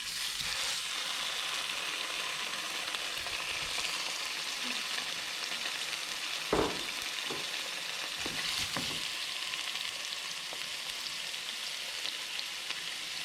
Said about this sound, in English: We're going to seal the steaks.